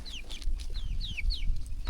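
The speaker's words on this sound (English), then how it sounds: "Oh, and we have a lost chick over there." Chicks and hens in a backyard chicken flock, with repeated short high descending peeps from a lost chick standing out over lower clucking and rustle nearby, several calls in quick succession.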